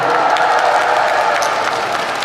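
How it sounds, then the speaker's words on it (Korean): A year-end concert audience at a Wando healing-night gala applauds together, a dense, steady wash of many hands clapping at close range, loud and sustained throughout with faint cheering mixed in. "특히 오늘 오신 모든 분들 같이 박수 한번 칠까요?"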